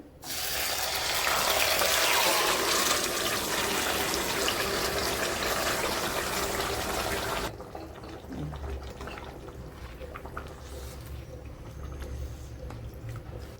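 Chicken pieces hit hot oil in a kadai on the stove for Kanthari chilli chicken, with a loud, dense sizzle for about seven seconds that then drops to a quieter, steady frying crackle.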